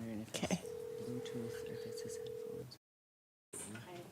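A telephone call is placed in a meeting room, a steady ringback tone sounding for about two seconds under people talking nearby.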